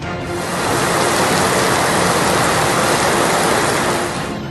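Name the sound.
heavy rain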